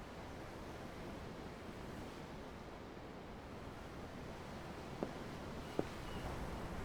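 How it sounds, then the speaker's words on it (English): Ocean waves wash ashore in Tales of Arise, a steady, soft rush of surf with no break between swells. Two faint clicks pop up near the end. "The ocean? Yeah. The waves."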